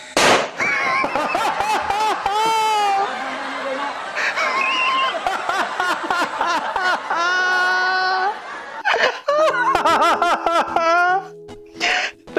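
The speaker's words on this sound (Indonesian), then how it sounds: "Anaknya bakar petasan di sebelah" Sharp firecracker pops burst irregularly amid lively voices and laughter, with several quick cracks clustered together near the end.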